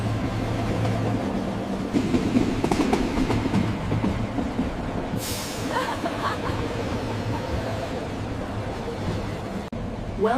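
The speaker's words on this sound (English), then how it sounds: "Look at the sleek high-speed train carrying passengers through the city." A sleek high-speed Intercity Express passenger train rolls through a city, a continuous low rumble with rhythmic rail clatter and a brief hissing rush partway through, fairly close and steady.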